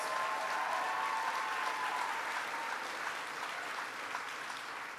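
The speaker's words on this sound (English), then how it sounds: "Let's give Kimberly Guilfoyle a round of applause" Crowd at a Texas youth summit in Montgomery County gives a round of applause for a guest speaker, continuous even clapping that tapers slightly over five seconds.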